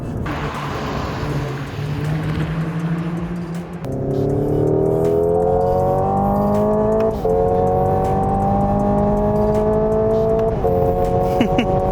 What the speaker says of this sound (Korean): 모터가 밖에서 보면 그냥 잉 달리는 전기차인 겁니다